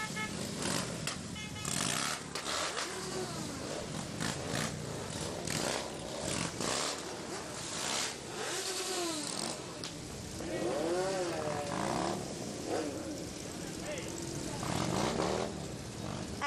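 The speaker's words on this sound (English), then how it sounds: "the engines are revving on this 83rd annual Pulaski Day Parade" Motorcycle engines rev at the 83rd annual Pulaski Day Parade in Philadelphia, giving a rough, continuous roar with repeated throttle surges as several machines pass and crowd noise fills the street.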